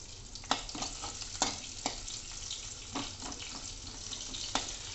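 Finely chopped green chillies fry in a pan for dal makhani, giving a steady sizzle broken by a few sharp stirring scrapes and clinks, close and moderately loud.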